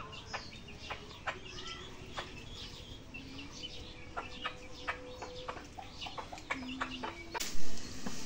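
Several chickens cluck and chirp repeatedly nearby, short irregular calls over a low background, with a brief louder rustle near the end.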